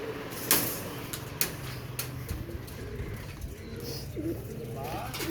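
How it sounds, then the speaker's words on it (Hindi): Pigeons coo softly in a loft where a hen sits on eggs, faint low murmuring calls under a few sharp knocks and rustles, with a person talking nearby. "ये कबूतर है, मादी ने फिर अंडों पे आई है"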